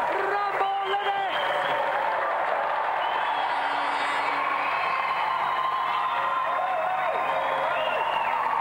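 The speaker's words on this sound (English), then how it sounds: "please, a round of applause for our final competitor tonight" A television studio audience applauds and cheers steadily for a final arm-wrestling competitor, a continuous wash of clapping at moderate distance, with a voice speaking briefly over it at the start.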